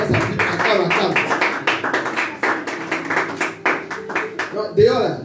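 A church congregation claps in a quick, uneven rhythm of close hand claps, with voices calling out over the clapping.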